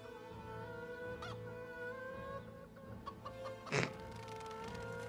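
A chicken clucks in the LEGO Lord of the Rings video game, a few soft clucks over steady game music and ambience, with one brief louder burst near the end.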